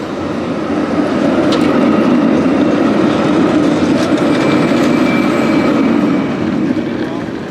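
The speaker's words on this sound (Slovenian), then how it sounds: "Moraš pa paziti teh se tramvajev." Tram rolling past near the railway station in Helsinki, a steady loud rumble of wheels on rails with faint clicks and squeal, sustained throughout with no pause.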